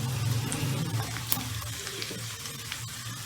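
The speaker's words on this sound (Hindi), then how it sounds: "इनको भी थोड़ा सा भून लेना है हमने इनके प्याज के साथ ही।" Onions and whole spices frying in oil for a white chicken karahi, giving a soft, steady sizzle with light stirring clatter throughout, fairly quiet and without talk.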